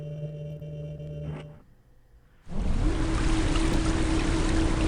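A water pump works beside a lever in a video game. A low hum drops away, there is a short lull, and then a loud, steady rush of water or machinery fills the rest of the clip, with a faint tone running underneath.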